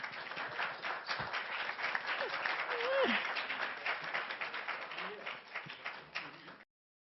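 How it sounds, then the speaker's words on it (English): Steady, dense applause fills a Cannes press conference room for nearly seven seconds, with faint voices underneath, before stopping abruptly. "Warm applause again."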